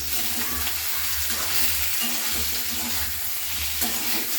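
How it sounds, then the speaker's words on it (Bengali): A turmeric and mustard mix sizzles in a hot pan while being stirred gently, giving a continuous close frying hiss with soft, rhythmic scraping swells from the spatula. "হলুদ গুঁড়ো দিয়ে এবার আমি একটু নাড়িয়ে চাড়িয়ে নিচ্ছি হালকা করে"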